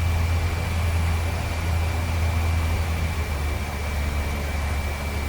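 A simulated DHC-3 Otter aircraft engine drones steadily in flight after throttling back, a constant loud low hum with broad rushing air noise and no talk.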